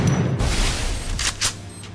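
Grenade explosions in the Free Fire video game, several booming blasts in quick succession over dense gunfire-like game noise, loud and close.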